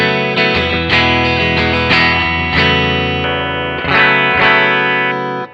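Warmoth partscaster electric guitar playing through bridge and neck pickups together, bright chiming strummed chords and picked notes with a shimmering chorus-like effect, rhythmic attacks ringing out, loud and close with no talking.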